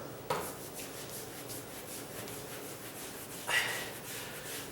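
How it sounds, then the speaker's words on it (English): A sponge rubbing cleaner into a stained wood floor, a steady soft scrubbing close by, with two sharper scuffs at the start and near the end. "I'm just going to rub a little bit harder"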